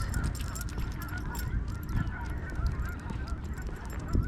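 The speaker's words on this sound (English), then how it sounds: "how handsome of a goose" In a city park, a goose gives repeated honks at close range over a constant outdoor background, with no voices.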